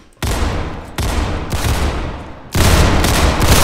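Loud, close Desert Eagle pistol shots in the Roblox game Criminality, three heavy blasts that start abruptly, each one ringing out and fading slowly before the next, with no talking.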